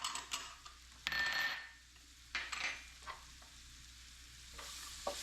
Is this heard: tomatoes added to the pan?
yes